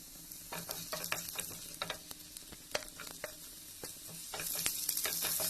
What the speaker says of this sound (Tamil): இப்போ நல்லா ஃப்ரை ஆயிடுச்சு